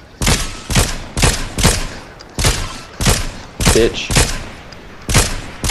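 Rocket launcher fire in the Fortnite video game, a rapid series of loud explosive blasts in bursts, dominating the mix, with a brief spoken word.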